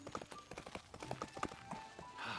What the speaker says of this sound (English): Sure, I'll ride my horse over.